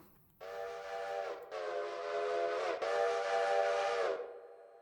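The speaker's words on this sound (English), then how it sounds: "H or Shift H for whistle, high and low." A deep, chord-like steam locomotive whistle in the video game Railroader sounds in three long blasts, the last held longest, loud and steady with brief breaks between them.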